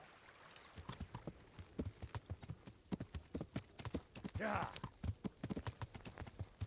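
Horse hooves clip-clop in a video game, a quick, even run of sharp close hoofbeats with a brief snort or whinny partway through and no talking.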